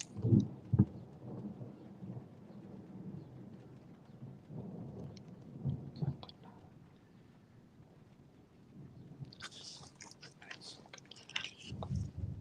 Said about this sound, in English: My dog is a bit getting afraid of the thunderstorms here.